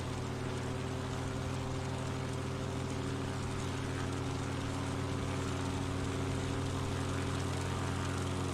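Propeller airplane engine in a flight simulator, a steady loud droning hum with a buzzing, bee-like tone that holds constant throughout with no voices.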